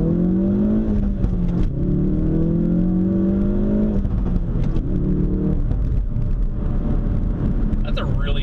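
Ford Focus RS pulls hard in first gear, the loud engine note climbing steadily in pitch over several seconds before a shift and another rising surge, with a voice talking briefly over it.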